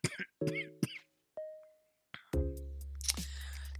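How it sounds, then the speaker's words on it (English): A person with a dry throat coughs several times in short bursts, between a brief tone and a loud game-style jingle, no talking. "the reason why I'm coughing so much is because my throat is kind of dry"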